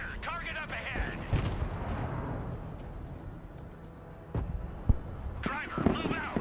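A tank's main cannon fires at a T-72 in the video game Broken Arrow, with a few heavy booming blasts and rumbling echoes. Voices talk at the start and end.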